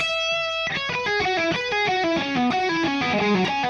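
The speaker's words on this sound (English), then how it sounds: "kind of descending run" An electric guitar with a distorted tone plays a descending run from a solo, after one held high note, sounding alone as a quick, stepwise cascade of clear notes.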